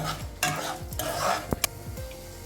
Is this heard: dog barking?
no